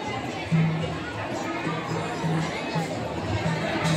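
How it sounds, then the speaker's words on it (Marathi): A crowd of people chattering at a busy temple, a steady dense murmur of many overlapping voices with occasional louder calls, close and continuous throughout. "किती गर्दी आहे"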